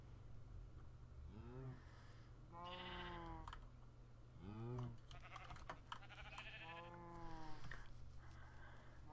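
Sheep in the video game Minecraft bleating several times, wavering nasal calls spaced a couple of seconds apart over a low steady hum, with faint clicking in the background.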